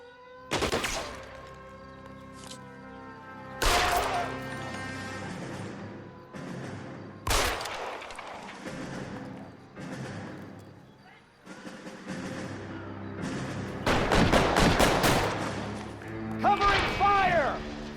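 Gunfire in a shootout from L.A. Noire, sharp bursts of shots and crashes spread across the scene with a dense volley near the end, heard among voices and music.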